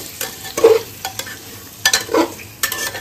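A spatula scrapes and stirs tomatoes and potatoes with spices in a pressure cooker, giving several short, close knocking strokes over a soft sizzle, with quiet gaps between the bursts and no talking.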